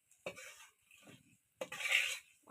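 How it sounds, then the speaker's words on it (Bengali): Spices being stirred and scraped in a pan over a clay stove, a few short clattering bursts separated by brief pauses, fairly quiet and close. "এই মশলাগুলো ভালো করে নেড়ে চেড়ে নিচ্ছি।"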